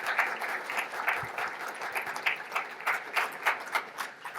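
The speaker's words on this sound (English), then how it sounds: "can I have a round of applause of thanks for the jury doing such a good job?" An audience at an awards ceremony and lecture applauds steadily, many hands clapping in a dense, even patter that carries on throughout without speech.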